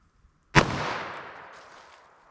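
A .22 WMR revolver fires one Hornady Critical Defense round into a gel block, a single sharp close report followed by a long fading ring.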